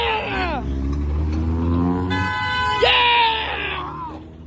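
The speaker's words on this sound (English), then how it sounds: "Honk for us!" Car horns honk on a street, a steady horn tone starting midway and a second sharper honk following, heard over loud shouting and cheering voices.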